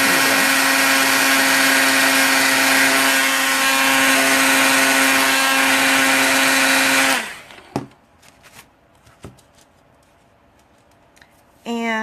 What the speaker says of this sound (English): I see that over here I didn't get it covered completely, so let me heat it up.